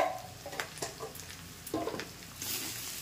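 Masala with Kashmiri chili is stirred in a kadai while cooking kadai chicken, giving faint, scattered scraping strokes over a soft background sizzle, with no talking.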